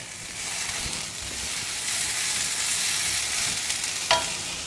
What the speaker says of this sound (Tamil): அடுத்தது தக்காளி சேர்த்துக்கலாம்.